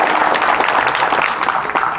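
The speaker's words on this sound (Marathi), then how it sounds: "चांगल्या टाळ्या वाजवल्या." Loud, lively clapping from an audience at a kirtan gathering in Ganesh Nagar, with dense overlapping hand claps that sound close and vigorous, holding steady across the whole moment.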